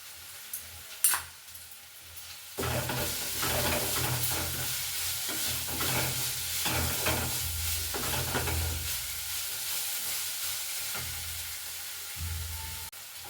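Potatoes and onions fry and sizzle steadily in a pan as they are stirred. The sound is close and continuous, with occasional scraping and no talk.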